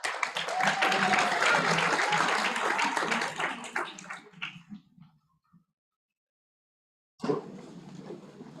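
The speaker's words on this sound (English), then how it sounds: "Can we give a round of applause?" A crowd applauds at a graduation ceremony, loud sustained clapping that fades out over several seconds into silence, then resumes abruptly at a lower level near the end.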